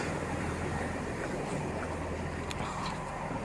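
A GWR class 165 diesel train passes through Redhill station, a steady broadband rumble with a low engine drone and faint metallic clicks from the wheels, continuous and fairly close throughout.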